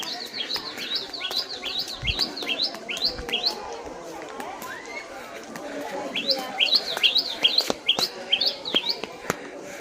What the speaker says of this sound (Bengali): আর পাখিরা ঠিক সামনে বসে আছে।